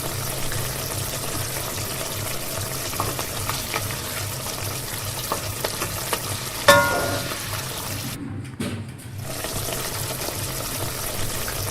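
Ginger garlic paste frying in hot oil for an Indian-style fish gravy curry, a steady close sizzle with an occasional scrape or clink partway through and a brief dip in the hiss near the end.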